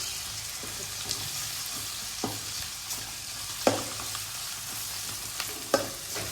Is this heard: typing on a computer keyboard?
no